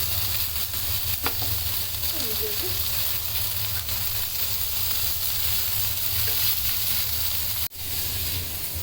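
Chicken pieces fry in a pan for burgers, a steady soft sizzle with a few light stirring clinks and a brief bump near the end.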